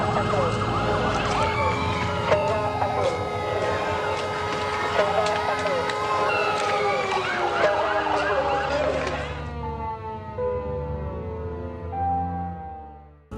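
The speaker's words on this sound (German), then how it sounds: "Und zwar sind es die Sirenen, die ertönen, wenn Raketen kommen." A rocket warning siren in Sderot wails loudly with a steady rising and falling tone, then cuts off and leaves fading echoes.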